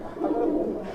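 Madrasi pigeons of a fine bloodline coo softly and steadily, a low continuous murmur from close by with no other sounds.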